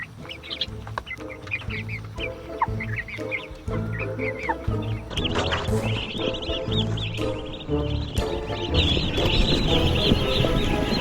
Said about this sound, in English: We got more turkeys.